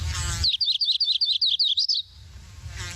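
A warbler's song plays from a recording: a clear run of about ten quick, high, repeated chirping notes in an even trill lasting around a second and a half, heard alone against a quiet background.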